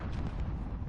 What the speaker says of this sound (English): Dang grenades.